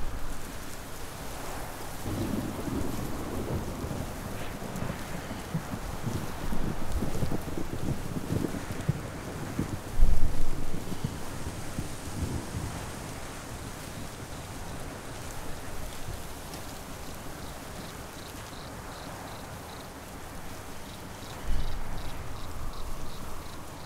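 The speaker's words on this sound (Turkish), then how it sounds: "Yüzyıllardır yağıyor." A rain and thunderstorm in rural Anatolia: steady rain and gusting wind fill the scene, broken by rolling rumbles of thunder, with a sharp, loud crack midway and another swell near the end.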